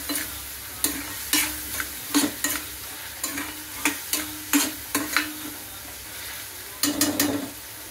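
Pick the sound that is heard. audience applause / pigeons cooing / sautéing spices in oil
sautéing spices in oil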